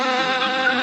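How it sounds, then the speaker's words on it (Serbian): Angry African killer bees buzz in a tight, steady drone close by, a brief continuous whine with no break. "Ove pčele su se baš naljutile. Naravno. To su afričke pčele."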